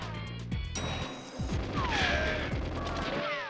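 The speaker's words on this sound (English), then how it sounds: "Oh, I just threw a grenade on the ground." Explosions and rapid gunfire from the N64 shooter GoldenEye 007, a burst of crashing blasts and rattling shots with sliding electronic tones, loud and close, with no talking.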